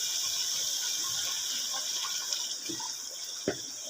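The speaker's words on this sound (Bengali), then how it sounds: "ভাজা হয়ে গেছে, এখন পানি দিয়ে দিচ্ছি।" Water pours into a pot of fried rice being cooked for pulao, a steady continuous gushing fill heard up close with no talk over it.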